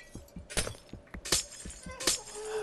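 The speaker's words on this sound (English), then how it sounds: "The only time in this game that the glass sound is a pleasant one." Glass breaking in a caving video game: several bright, crisp shattering bursts a fraction of a second apart, moderately loud and close, over soft low game ambience.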